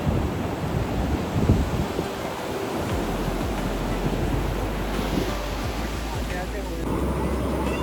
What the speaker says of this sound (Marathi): काय वेव्स येत आहेत यार